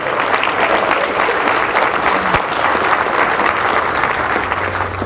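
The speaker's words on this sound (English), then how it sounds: "Can we give her another round of applause, emceeing all day today?" A crowd at a community breakfast gathering gives the emcee a round of applause: dense, steady clapping that holds at full strength for the whole stretch, with no speech on top.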